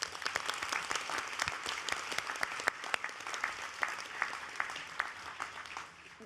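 Sustained applause from a convention audience fills the room, a dense patter of many hands clapping steadily before tapering off slightly at the end.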